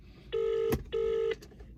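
Two electronic telephone dialing tones, each a short steady beep, separated by a faint click in a quiet room.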